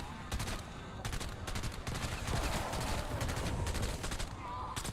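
Rapid burst-fire gunshots in BO7 Zombies, tight clusters of sharp cracks repeating every second or so over steady loud game noise, close and prominent.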